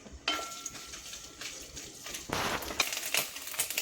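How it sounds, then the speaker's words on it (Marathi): Coconut being stirred and roasted in ghee in a pan for khapli wheat kheer, with soft sizzling and scraping of a spoon against the pan in several short bursts, fairly close and moderately quiet. "थोडंसं तूप टाकते. त्याच्यात अगोदर आपण खोबरं परतून घेऊ."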